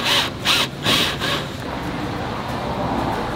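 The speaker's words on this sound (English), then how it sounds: "so we're just gonna drill in right here." A drill bores into the wooden wall of a giant tortoise enclosure, with a few loud rhythmic grinding pulses at first, then a steadier whirring rasp.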